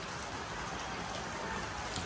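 Rain pours down at a gamefowl farm in Maragondon, Cavite, a dense, even wash of drops pattering on surfaces with no break throughout.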